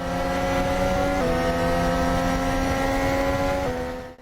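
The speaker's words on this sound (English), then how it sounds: "you can hear the car pushing through the air when driving at speed" Formula 1 race car in the Assetto Corsa F1 mod driving at speed, a loud, steady engine drone with strong harmonics and a rushing air layer, pitch stepping down briefly twice as if shifting or lifting.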